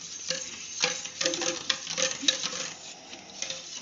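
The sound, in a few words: stirring sugar into milk with a large spoon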